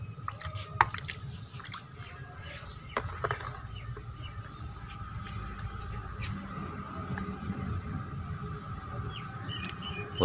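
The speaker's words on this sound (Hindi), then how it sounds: "ऐसे खुले पानी के अंदर इसको धो लें।" Fresh mulberries being washed in open water, with scattered drips, splashes and light squishy handling sounds over a soft running-water background, no talking.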